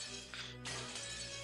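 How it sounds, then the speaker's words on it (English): A glass-shattering effect from the Umineko visual novel game, a bright crash of breaking glass followed by a second smash a moment later, loud and close over a low background hum. "Stop breaking the glass!"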